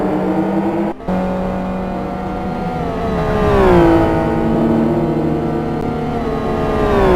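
Race cars in a GT1 Challenge racing video game roar loudly and continuously, engines holding a steady high whine and then sweeping down and back up in pitch as they brake and accelerate through corners.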